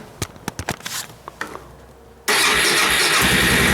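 A cold engine with the choke on is started with a key: a few uneven clicks and cranking bursts, a short pause, then it catches and settles into a loud, steady, close running roar.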